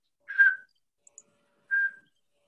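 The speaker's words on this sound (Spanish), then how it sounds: "todos os sonará el autillo, que se pasa el tío toda la santa noche con su reclamo, ese silbidito" A Eurasian scops owl gives two clear, pure whistled notes about a second apart, each short and slightly falling, in near silence.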